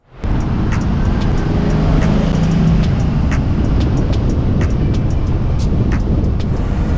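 A 600 hp Pontiac Grand Am driving, its engine a steady loud roar with road and wind noise from inside the car, sustained without pause and no talking.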